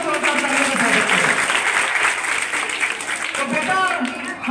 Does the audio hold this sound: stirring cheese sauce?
no